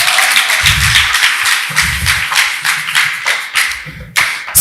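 Church congregation clapping together in praise, loud, close rhythmic claps in steady bursts with brief pauses.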